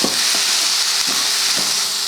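Onions and cooked chana dal sautéing in a pan for a poriyal, a steady loud sizzle with faint periodic scraping as the mixture is stirred.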